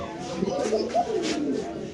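A white Spanish male pigeon coos in soft, low rolling calls close by, with people's voices talking over the cooing throughout.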